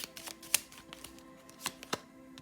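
Tarot cards being shuffled by hand close by, soft papery riffles and flicks with a few sharper snaps, quiet and irregular with brief gaps between bursts.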